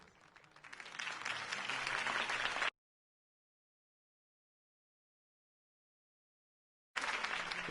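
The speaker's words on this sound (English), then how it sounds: "If only Mr. Wayne, my campaign's largest backer, could have heard that applause" Crowd applause after a campaign speech in a Batman video game, a steady wash of clapping that cuts out abruptly into a few seconds of silence, then resumes just as abruptly near the end.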